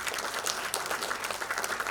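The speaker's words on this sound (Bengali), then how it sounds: "একটু জোরে হাততালি দিন" Applause from a concert audience, dense steady clapping that fills the clip, with no speech over it.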